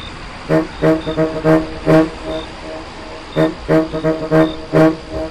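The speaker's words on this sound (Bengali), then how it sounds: "তারপরেই শুনলাম ভেঁপুর আওয়াজ।" A vehicle horn in a horror audio story sounds in a series of short, loud honks in two bursts separated by a brief pause.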